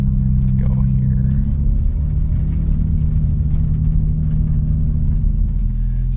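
A 2023 BMW M4 CSL rumbles steadily from inside the cabin on a windy canyon road, with low engine drone and road noise on grippy tires, while a person briefly speaks over it.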